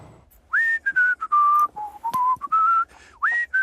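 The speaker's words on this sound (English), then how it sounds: "All she needs to do now is whistle a melody or tune" Someone whistles a short, clear melody, sliding between notes in bright, distinct phrases with brief gaps, close and alone.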